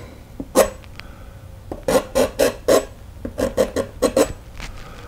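A painting knife scrapes through wet gray oil paint on canvas to form a tree in a simple fall landscape, a close series of short rasping strokes: one at first, then quick bursts of five and six, with no talking.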